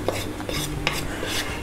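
Salt and oil stirred with a utensil in a bowl, close scraping and light clinking strokes in quick succession over a short stretch, with no speech.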